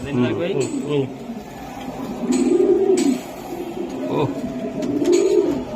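Racing pigeons coo in repeated low, rolling phrases close by, while people talk over and between the calls.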